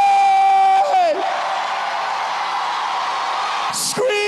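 A large crowd at a Christian conference screams together in a long, loud, sustained roar, opening on a held tone and cutting off near the end.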